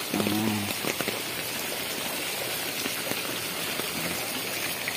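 Heavy rain pours down steadily in a flooded residential area, a dense continuous hiss of water on surfaces; a voice briefly speaks at the very start, then the downpour continues alone.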